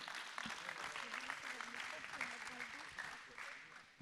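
Audience applause at an awards ceremony for the Innov'Space 2020 trophies, a steady broadband wash of clapping sustained throughout, with a faint voice murmuring underneath.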